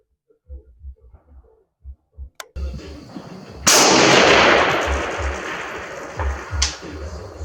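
SDM-R rifle fired at a 600-yard target on a marksmanship range: a loud sharp report with a long rolling echo, preceded by soft handling thumps and followed by a faint later impact.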